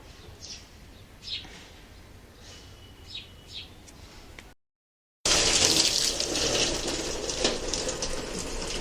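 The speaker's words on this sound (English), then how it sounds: "This is the pipeline where the wastewater enters into this layer." Wastewater pours from a pipeline into a filter layer. After faint bird chirps and a brief cut, a loud, steady rushing flow of water fills the rest.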